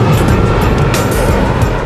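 Jet aircraft engine on approach to Hong Kong's Kai Tak airport, a loud, dense roar with rumbling low end, heard close and continuous over a brief stretch with no talking.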